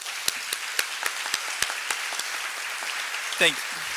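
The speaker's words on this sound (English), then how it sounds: "Let's give him a round of applause." Scattered clapping from an audience at an awards luncheon, a thin run of sharp individual claps spaced apart rather than a full ovation, with a brief voice breaking in near the end.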